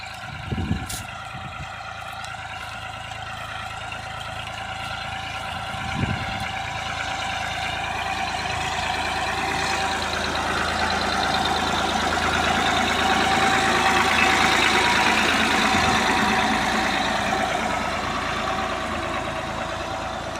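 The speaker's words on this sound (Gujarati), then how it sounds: "પણ તું જો ને હવે મારા બાપુજી ટ્રેક્ટર હાકે છે." A tractor engine drives along a farm field, a continuous steady drone with a faint whine that swells slightly through the middle. A couple of soft knocks come early on, with no voices.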